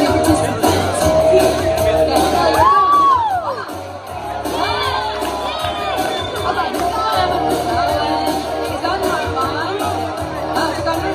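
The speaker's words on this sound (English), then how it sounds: "Please cheer your participants." A crowd at a fishing contest at the Pacific Marine Expo cheers and whoops for competitors, with shouts, whistles and babble filling a busy, echoing hall throughout.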